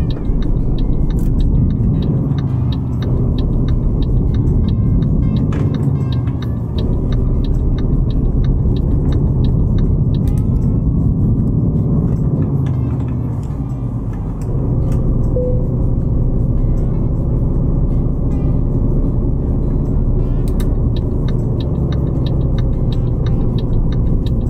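A truck rolls through Vienna after midnight in Euro Truck Simulator 2, its engine droning loud and steady with a deep rumble, briefly easing and rising again, with light ticking clicks scattered over the top.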